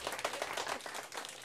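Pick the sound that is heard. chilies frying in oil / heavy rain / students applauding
students applauding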